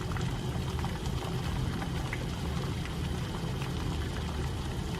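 Water at a rolling boil in a pot, a steady, dense bubbling and hissing that holds at an even level throughout, close by with no voices.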